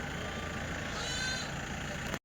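A goat bleats once in the middle, fairly faint, at the Tuesday goat market in Kadiri amid a constant crowd and traffic murmur.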